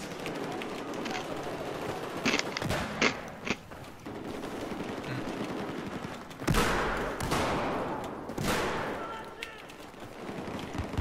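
Gunfire in the video game Battlefield comes as bursts and single shots of varying loudness, with two heavier blasts near the middle, under and between a player talking.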